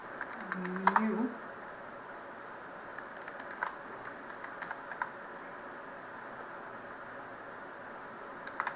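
Code being typed on a computer keyboard, heard as quiet, close, irregular key clicks over a faint steady hiss, with a brief voice near the start.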